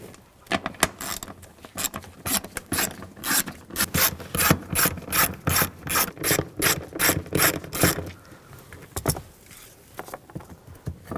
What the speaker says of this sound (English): A 10mm socket. Take these nuts off.